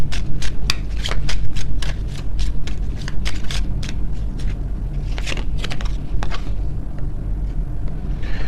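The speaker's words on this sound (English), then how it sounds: "Let me get some final oracle cards here." Oracle cards are shuffled in a rapid run of crisp riffling flicks, loud and close, then softer, looser shuffling toward the end, with no talk.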